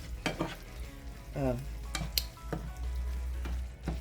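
Ground beef mixed with a spicy sandwich sauce sautés in a pan, a soft steady sizzle broken by several clicks and scrapes of stirring, fairly quiet and close.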